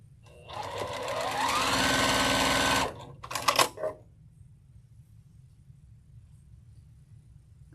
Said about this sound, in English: Just making sure I'm sewing on the right side of the block